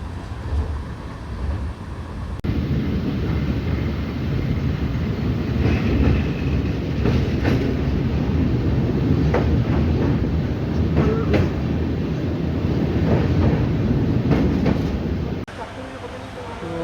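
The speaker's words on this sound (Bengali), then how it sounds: "তো আমাদের ট্রেন এখন খড়গপুর জাংশন এসে দাঁড়িয়েছে।" A crowded passenger train runs on rails approaching Kharagpur Junction, a loud steady rumble with rhythmic knocks that starts abruptly after quiet and drops off near the end.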